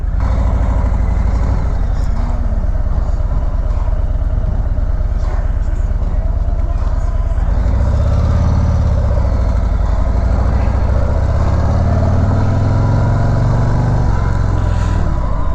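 Harley-Davidson CVO Street Glide motorcycle on a short ride around the block, with a steady, loud engine rumble and wind noise throughout and rising and falling revs in the second half.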